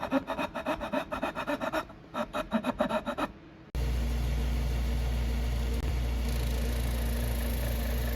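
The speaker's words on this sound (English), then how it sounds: "we need to square off the edges with a file." A file rasping back and forth along the edges of a wooden side table part, in a rhythmic run of short strokes that stops partway through, leaving a steady low background hum.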